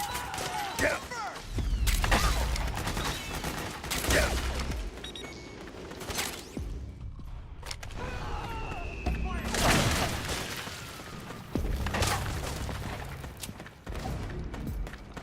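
Bursts of gunfire and booming impacts crackle through a Metal Gear Solid cutscene, mixed with mechanical clanks, while voices shout over the action.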